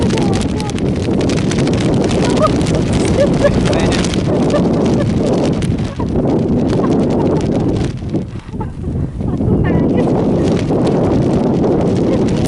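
A strong whirlwind gust blows while people fish outdoors, making a continuous loud roar and buffeting against the microphone, briefly easing before surging again, with voices talking under it.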